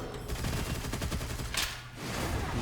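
Rapid SMG fire in Gunfire Reborn, a quick regular burst of close shots for about a second and a half, then a short pause and a swoosh before the firing resumes.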